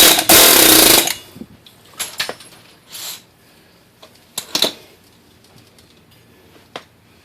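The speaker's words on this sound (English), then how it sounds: "I'm just using my air hammer, give it a little persuasion." A pneumatic air hammer pushing out a front axle on a Grand Am rattles loudly in one long burst, followed by several shorter, quieter hits and clanks spread out over the following seconds.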